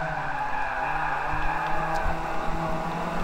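Car tires squeal and skid while sliding around a corner apex in Forza Motorsport 5, a sustained tonal screech over loud engine drone, wavering in pitch throughout.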